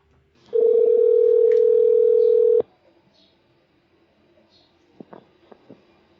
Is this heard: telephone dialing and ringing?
yes